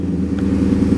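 A roommate's truck idling nearby, a loud steady low engine rumble with a faint pulsing rhythm, continuous throughout with no talking.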